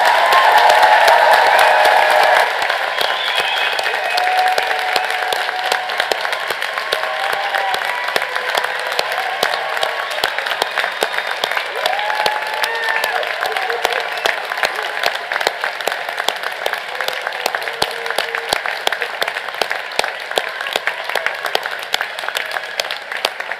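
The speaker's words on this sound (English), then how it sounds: "Let's give them all a round of applause." A large commencement audience at a university graduate ceremony breaks into sustained applause, dense steady clapping mixed with scattered cheers and whoops, filling the hall for over twenty seconds without talk.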